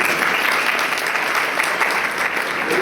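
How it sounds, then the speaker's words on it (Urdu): Applause at a church service breaks out for a raised hand, a steady patter of clapping from a gathered congregation that sustains evenly throughout. "ایک ہاتھ کے لیے تالیاں میں جاتے ہیں"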